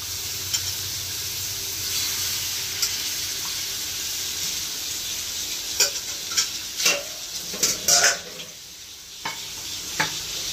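Bombay duck fish cooking in roasted masala in a pan, a steady sizzle with stirring scrapes and a cluster of sharper clatters and pops in the second half, close and without talk.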